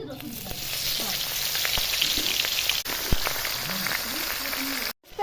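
A large katla fish head spiced with salt and turmeric fries in hot oil, giving a continuous loud sizzle with crackling pops, a couple of brief clatters near the end, and some faint talk underneath.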